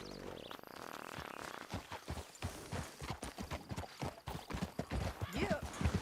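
Horse hooves beat along a trail in the video game Red Dead Redemption 2, a steady, rapid clip-clop of galloping that stays close and continuous throughout.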